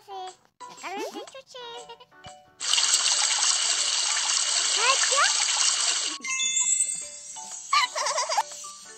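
Tap water runs steadily for a few seconds as hands are washed with soap in a children's cartoon, with high-pitched children's voices singing and chattering before, over and after the rushing stream.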